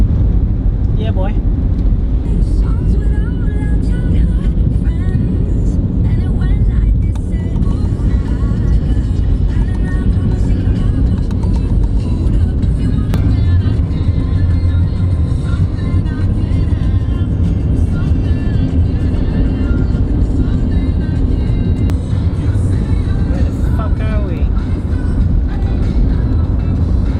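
Steady low rumble of a car interior while driving between wedding locations, continuous engine and road noise throughout with occasional people talking over it.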